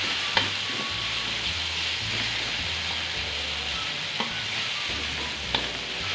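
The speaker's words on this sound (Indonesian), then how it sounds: "Kita tuangkan bumbu, kita tumis sampai bumbunya ini bau harum ya teman-teman." Spice paste for Nile tilapia curry stir-frying in a hot pan, a steady loud sizzle with occasional scrapes and taps of the spatula.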